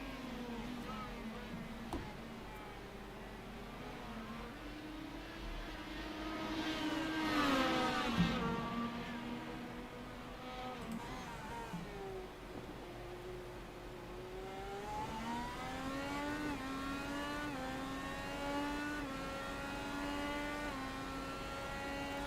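IndyCar engines at Imola in the iRacing sim, a car's engine rising and falling through gears as it closes on the gearbox of a car ahead, moderately loud and continuous with shifting pitch.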